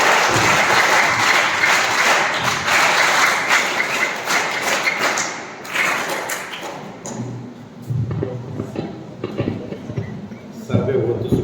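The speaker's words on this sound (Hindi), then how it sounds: "तो मैं तालियों के साथ डॉक्टर साहब को इनवाइट करूंगा।" An audience applauds to welcome a doctor at a health session for sports players, with a dense, sustained clapping that thins out toward the end, mixed with scattered taps and thumps.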